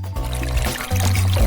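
Water poured into cake icing in a bowl, a short close splashing trickle that swells louder near the end, with no talking.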